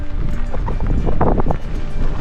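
Strong headwind buffets the microphone of a cyclist on the T'Railway in Newfoundland in a continuous rough roar, with a brief louder gust in the middle.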